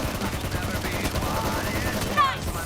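Gunfire in a PUBG Mobile match, with sustained bursts of shots and a sharper crack near the end, all sitting under steady game noise and a voice talking.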